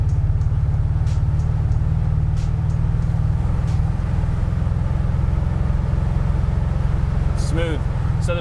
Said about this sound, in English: Nice and smooth, transmission shifting as it should. Now we're in third gear.